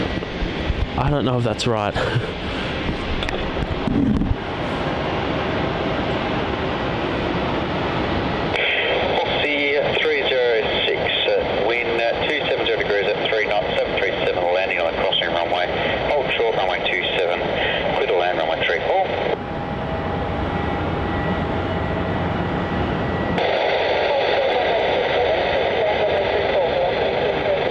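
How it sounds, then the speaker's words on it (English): A QantasLink Dash 8-300 turboprop takes off from runway 27 at Melbourne Airport. Its steady engine drone runs throughout, alongside radio chatter and a brief remark from someone nearby. "we've got a Qantas Link Dash 8300 taking off on runway 27, QF 151 heading off to Auckland."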